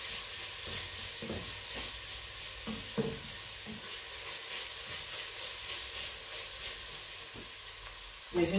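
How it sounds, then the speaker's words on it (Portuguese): Onion cooking in a pan for a Portuguese salt cod and spinach bake, a steady sizzle and hiss with a few soft stirring scrapes, close and continuous with no talk. "Agora vamos mexendo para não agarrar embaixo e fazer grumos. Enquanto a nossa cebola está aí a cozer"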